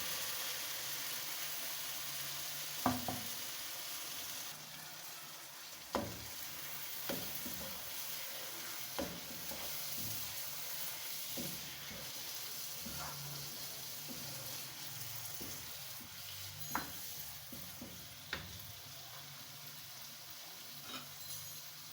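Urad dal cooking and being stirred into fried masala, a faint continuous sizzle with repeated spoon scrapes and light clinks against the pot spaced every few seconds.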